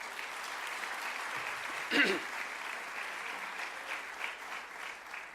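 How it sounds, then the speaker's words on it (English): A crowd applauds matric learners at the Westering High valedictory ceremony: dense, steady clapping that fills the room for the whole stretch, with a brief louder swell midway. "You need to give yourself a round of applause for making it to this point."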